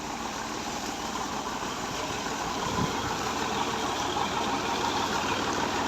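A Made in England 135 tractor engine idles steadily at close range, a continuous low rumble with no voices over it.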